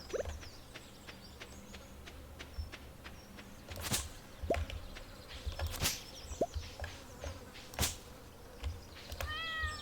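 Cat meows inside the Stardew Valley video game, a few short, thin calls scattered among clicky game sounds and light ticking, moderately quiet with no voice over it.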